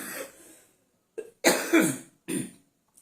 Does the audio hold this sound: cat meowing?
no